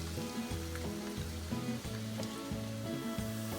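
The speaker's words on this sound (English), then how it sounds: "So the onions have just about sautéed in the oil." Chopped onions sautéing in heated cooking oil in a pot, a soft, steady sizzle heard faintly beneath a tuneful melodic music track, with no one talking.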